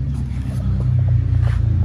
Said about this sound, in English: And here's Aaron with his car. He's bringing it in right now.